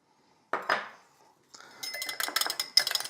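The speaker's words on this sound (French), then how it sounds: "Je fouette pour séparer toutes les graines." Small whisk beating vanilla seeds into olive oil in a small bowl, a few clinks at first, then a quick run of rapid metallic taps against the bowl, close and fairly faint.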